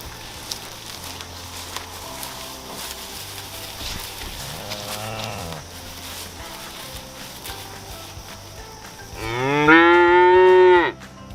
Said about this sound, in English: Just a woman and her cow herd.